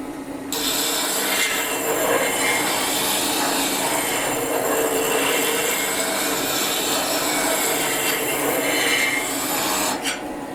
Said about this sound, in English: Start up my grinder again.